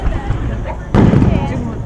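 A fireworks display in Funchal, with a loud burst breaking in about halfway and low rumbling booms following beneath crowd noise and people talking nearby.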